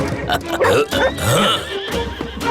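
A horse whinnies loudly with wavering, rising and falling cries, overlapping a few bursts of other noise and voices in the background.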